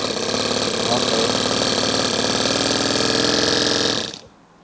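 Mini four-stroke gasoline engine with a transparent cylinder running close by, a loud rapid chugging idle that holds steady for about four seconds, then cuts off abruptly into quiet.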